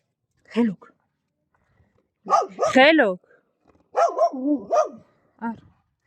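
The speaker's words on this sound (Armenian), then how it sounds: "անիմաստ հաչում եք, որ ինչ" Several dogs bark and yip in short separate bursts at close range, with quiet gaps in between and a little whimpering.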